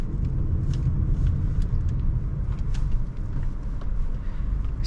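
A 2024 Honda Amaze cruising in fifth gear at about 40 km/h gives a steady, smooth low road rumble and engine drone with tyre noise, continuous and close throughout, with no talking.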